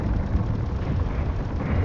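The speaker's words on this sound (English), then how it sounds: "Ooh, that was a big explosion." Large explosion of a ship in a space-building video game, a dense, sustained rumbling roar heavy in low end that stays loud and steady throughout, with no voices.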